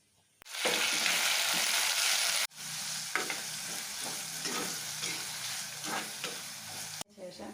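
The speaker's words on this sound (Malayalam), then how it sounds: "നമ്മൾ അതിലേക്ക് സബോള, തക്കാളിക്ക, അതുപോലെ പച്ചമുളക് അരിഞ്ഞത് 2-3 പച്ചമുളക് അരിഞ്ഞത്, കറിവേപ്പില, ഇഞ്ചി, വെളുത്തുള്ളി ഇതെല്ലാം കൂടെ ഇട്ട് വഴറ്റിയെടുക്കുക" Onion, tomato, green chilli, curry leaves, ginger and garlic sautéing in a pan for a Kozhikode-style fish curry, a loud steady sizzle with scraping stirs, a brief break midway and a sudden cut near the end.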